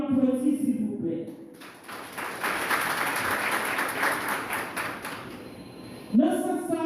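An audience at a formal gathering applauds for several seconds, a short burst of clapping framed by someone speaking before and after.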